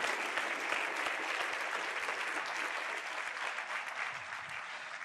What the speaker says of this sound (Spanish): Dar una ofrenda de palmas a Dios bendito